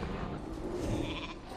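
A polymorph spell's sheep bleat sounds during a World of Warcraft arena match, a short wavering bleat sitting amid a steady wash of game effects and background noise.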